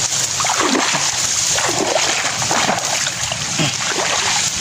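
Water splashes and sloshes repeatedly as someone stirs up a muddy stream or pond to catch tilapia, the splashes close and rhythmic over a constant watery hiss.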